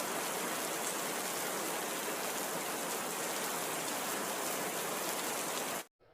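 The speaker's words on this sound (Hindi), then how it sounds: "उसी रात काले बादलों के साथ बरसात शुरू हो गई" Heavy rain pours steadily through a storm at night, a dense, continuous roar of water hitting the ground close by, holding an even level until it cuts out abruptly near the end.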